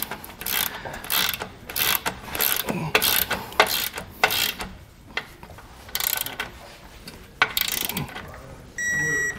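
Ratchet torquing down a Roadmaster base plate bolt on a 2021 Jeep Wrangler, repeated bursts of sharp clicking pawl strokes in an uneven rhythm, close and loud, with a brief electronic tone near the end.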